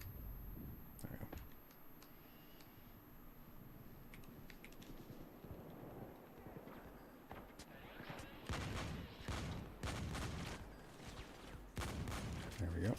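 Rapid bursts of gunfire in a shooter video game raid, growing denser and louder toward the end over a steady background wash, with a voice talking at times.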